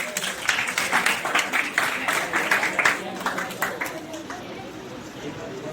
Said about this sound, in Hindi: एक बार बच्चों के लिए जोरदार तालियां हो जाए।